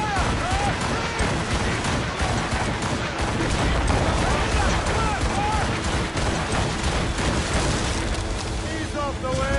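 Ship cannons firing in a naval battle in Assassin's Creed Rogue, dense booms and rumbling blasts amid wind and sea noise, continuous and loud, with shouting crew voices throughout.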